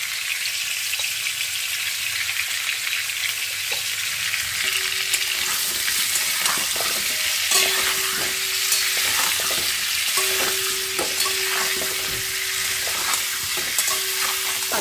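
Potatoes frying to a light brown in a pan with salt and turmeric, a steady, loud, unbroken sizzle with faint scraping stirs over it, no voices.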